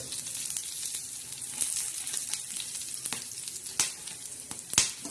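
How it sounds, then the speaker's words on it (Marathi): Whole spices dry-roasting in a pan while making a masala for brinjal and mutton, giving a soft continuous crackle and sizzle with scattered sharp pops and rattles as they are stirred, with no talk. "खडा मसाला बी असा छान असा भाजून घ्यायचा"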